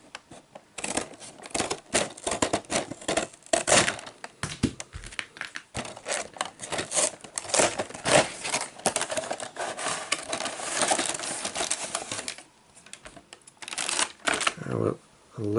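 Cardboard and plastic packaging of a Hot Wheels 2019 Speed Blur 5-pack being opened, with dense crinkling, tearing and rustling bursts close to the microphone and a brief pause near the end.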